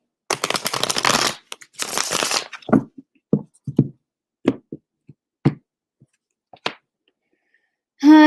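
Tarot cards shuffled by hand, two long riffling bursts followed by scattered short taps and slaps as the deck is squared and handled, close and dry, with no talk.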